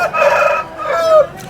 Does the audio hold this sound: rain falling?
no